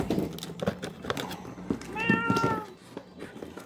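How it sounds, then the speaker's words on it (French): Cat meowing indoors during a board game unboxing, one clear drawn-out meow near the middle over low background chatter and handling noise. "Merde, le chat."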